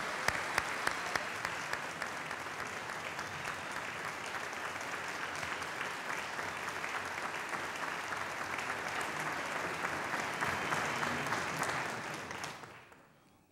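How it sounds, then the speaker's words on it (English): A crowd applauds a university jazz combo at an outdoor groundbreaking event for a performing arts center, sustained clapping of many hands that holds steady, then fades out near the end. "Please give a round of applause to our Jazz Combo One for their work."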